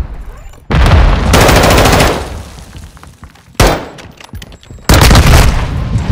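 Loud close bursts of automatic gunfire in Call of Duty: Modern Warfare II come in three separate volleys, each lasting about a second or more, with quieter gaps between them.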